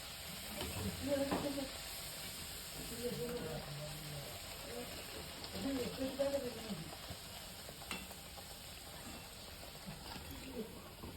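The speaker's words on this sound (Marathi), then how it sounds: "आता मी सगळ्याच पुऱ्या अशा तळून घेणार आहे" Tomato puris deep-frying in hot oil give a soft, continuous sizzle with faint stirring under a voice speaking at low level throughout.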